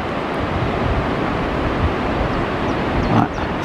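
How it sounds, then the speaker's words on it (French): A waterfall at the Cirque de Gavarnie in the Hautes-Pyrénées gives a steady, loud, broadband roar of rushing water that holds even throughout, with wind buffeting the microphone. "Ouais, sacrée cascade."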